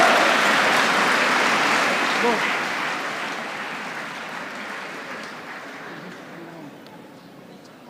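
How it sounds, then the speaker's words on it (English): A large audience at a university convocation breaks into loud applause that slowly fades over several seconds, with murmured voices and chatter mixed beneath the dense clapping. "Let's give them a huge round of applause"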